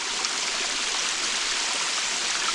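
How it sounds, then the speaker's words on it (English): Water pours steadily over Hiker's Peril Falls on the Foothills Trail in South Carolina, a constant close rushing hiss with no voices. "This is called Hiker's Peril Falls."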